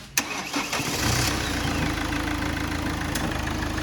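A Chevrolet Cruze engine cranks and catches, then settles into a loud, close idle with a steady low pulsing thump from the engine mounts, plus a brief knock near the end.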